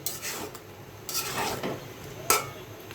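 Spice powders being stir-fried with raw mango for a sweet and sour pickle, a soft sizzle under several scraping, rubbing strokes of a spoon against the pan, close and fairly quiet, no voices.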